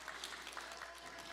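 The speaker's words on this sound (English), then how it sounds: "now you can clap because he had to do the job of 2 people" Church congregation clapping during a live-streamed service, a short burst of applause heard faintly at low level.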